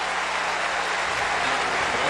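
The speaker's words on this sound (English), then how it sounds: "this crowd is rocking" Dense, steady roar of a stadium crowd cheering at a college football game between Iowa State and Northern Illinois, broad and continuous without a break across the short stretch.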